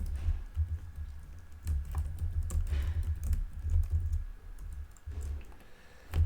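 Program code is typed on a computer keyboard in a rapid, continuous run of close key clicks with a few brief pauses, over a low hum and without speech.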